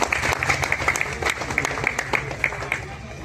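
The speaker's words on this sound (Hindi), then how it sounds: "जोरदार तालियों से स्वागत हो" Applause from an assembled crowd at a village meeting at a ghat about boat operation, a continuous patter of many hands with some speech mixed in, fairly steady throughout.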